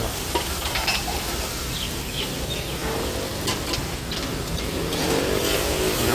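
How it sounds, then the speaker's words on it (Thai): Food sizzles and scrapes in a hot wok at a Thai curry-rice buffet shop at Suan Lum, amid busy background noise, with a steady clatter of stirring and a traffic hum underneath. "วันนี้ได้ดูเขาผัดกับข้าว"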